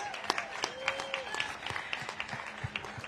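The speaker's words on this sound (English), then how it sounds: "Let's give her a big round of applause." Sparse clapping from a small audience at a women's post-race press conference after an Ironman 70.3 race, a handful of separate claps heard fairly close over room murmur.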